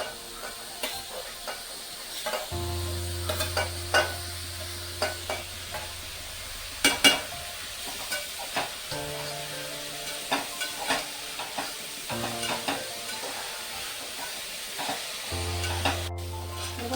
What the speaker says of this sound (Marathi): मी कांदा टाकून घेते आता त्याच्यामध्ये। कांदा छान भाजून घेणार आहे